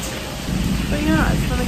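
Rain falls during a thunderstorm with a steady broadband hiss and low rumble, while a brief voice-like sound rises partway through.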